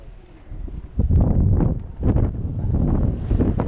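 Gusty wind at a cycling festival in Çanakkale buffets the microphone in low, rumbling bursts, with a steady faint high hiss running underneath throughout.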